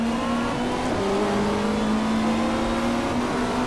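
Super Touring race cars, a Ford Mondeo among them, race at a street circuit. A loud, continuous engine drone holds a steady pitch with a shift partway through, close and unbroken, with no talk.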